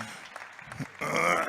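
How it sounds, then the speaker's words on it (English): Audience at a club night at the Hackney Empire breaks into applause for the band, a dense burst of clapping that starts suddenly midway after a low murmur of crowd noise. "A big round of applause for the band there, ladies and gents."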